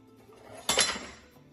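A single close metallic clink of a spoon against a pot while cooking besan halwa, sharp and brief with a short ringing decay in an otherwise quiet kitchen.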